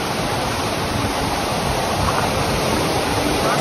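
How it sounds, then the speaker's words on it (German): A canyon waterfall near Petra roars in a steady, loud, unbroken rush of falling water with no voices. "da ist der Wasserfall"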